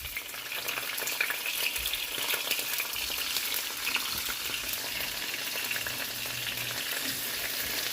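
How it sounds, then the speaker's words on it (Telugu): Cumin, mustard seeds and dried red chillies frying in hot oil give a steady, dense crackling sizzle that holds evenly throughout, close and fairly loud, with no voices. "ఇక ఇప్పుడు జీలకర్ర, తర్వాత ఆవాలు, తర్వాత ఇక ఎండుమిర్చి 1 by 1 వేయడమే అన్నీ."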